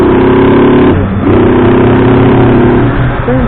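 Honda CG 160 Fan motorcycle fitted with a sport air filter and stock exhaust, ridden hard in fifth gear on a highway, its engine roaring loud and close with a brief dip before pulling steadily again.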